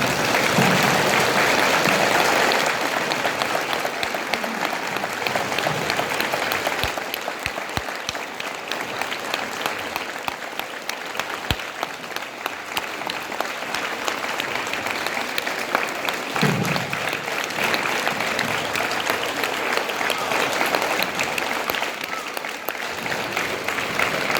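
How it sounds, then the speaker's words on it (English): An elementary school audience stands and applauds military veterans, a long, sustained round of clapping that swells early, stays full and loud throughout, with faint cheers mixed into the crowd noise. "please stand up and give these veterans another round of applause"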